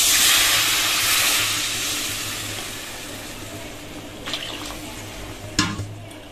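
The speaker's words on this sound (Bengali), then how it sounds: "এবার দিয়ে দেব জল।" Water is poured into a spiced potato curry in a hot pan, giving a loud steamy hiss and sizzle that slowly fades, with a few clinks near the end and no talk.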